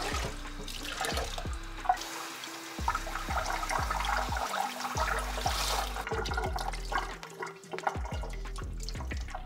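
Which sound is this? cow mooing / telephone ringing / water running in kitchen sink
water running in kitchen sink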